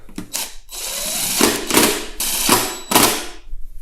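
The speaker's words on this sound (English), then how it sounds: "I will have to put the little drill on it" A small power drill spins a cheap Craftsman lawn mower engine with the recoil starter removed, whirring in loud, uneven bursts, its load surging and dropping several times close by, with mechanical rattling between pulses.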